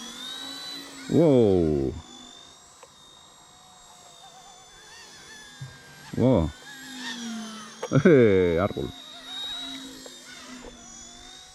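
A small ERA-RC C189 MD500 RC helicopter flies nearby outdoors, its steady high rotor and motor whine running throughout while people exclaim loudly over it in short bursts.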